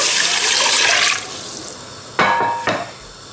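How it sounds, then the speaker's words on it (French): Water pours from a container onto browned veal in a pressure cooker pot for a tajine, a loud rushing splash that trails off, followed by a couple of short clinks and splashes. "je vais l'arroser avec de l'eau"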